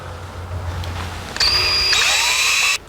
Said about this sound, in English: Drill an 1/8-inch hole.